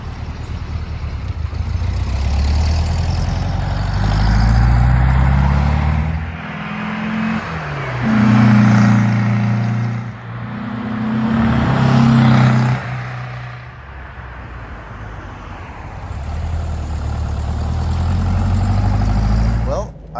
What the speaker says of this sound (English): I hear that glorious flat 4 push rod behind me.